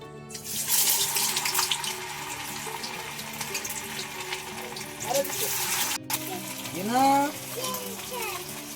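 A marinated chicken piece hits hot oil in a kadhai and sizzles in a loud, steady hiss that breaks off briefly before the end, with a voice talking over the last part.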